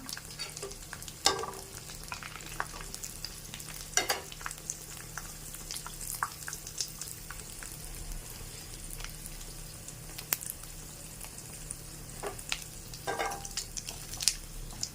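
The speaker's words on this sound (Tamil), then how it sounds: "கடுகு போட்டேன்" Mustard seeds spluttering in hot oil for a Tamil gravy, a low continuous sizzle dotted with scattered sharp pops and crackles throughout, fairly faint and with no talk.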